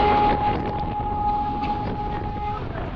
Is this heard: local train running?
yes